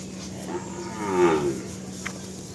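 A good-quality cow on a livestock farm moos once, a long, loud, low call with a clear harmonic sweep rising and falling mid-clip, over a steady background hum.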